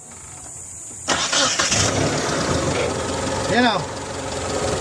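A Mitsubishi Adventure engine with no thermostat cranks and starts, then settles into a loud, close idle with a brief rev, while someone speaks over it.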